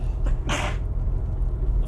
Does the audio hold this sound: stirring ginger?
no